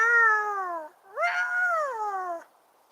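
A cat gives two drawn-out, wavering meows close by, the second louder and rising then falling, separated by a short pause with quiet around them.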